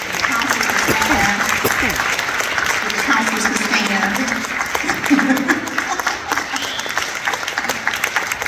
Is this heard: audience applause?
yes